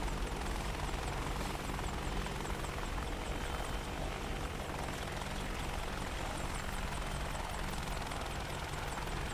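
An Apache helicopter in a flight simulator hovers with its rotor running, a steady heavy rotor and engine roar with a faint rhythmic blade chop, continuous and close.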